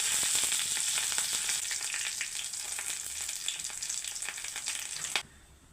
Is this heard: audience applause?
no